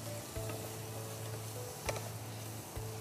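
Food sizzles steadily in a pan at low volume, a continuous frying hiss while a vegetable laddu is cooked in a kitchen, with a few faint ticks and no talking.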